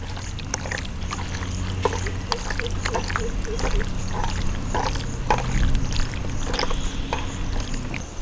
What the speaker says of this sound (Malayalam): ഇത് നന്നായി ഒന്ന് മിക്സ് ചെയ്തെടുക്കാം.